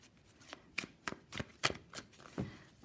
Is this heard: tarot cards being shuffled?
yes